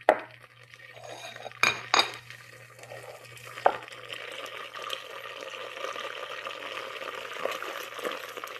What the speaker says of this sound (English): You can always tell if you have butter with lots of water in it, like this, it does, because there's a lot of bubbling going on